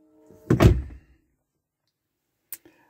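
A car door thunks once, fairly close and solid, followed by a brief faint click or chime about two seconds later; no talking.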